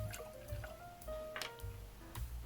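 Whiskey, a one-ounce sample from a Whistle Pig 12 or Dickel 8 Year comparison, pours into a glass with a thin liquid trickle and soft drips for a couple of seconds, close and fairly quiet.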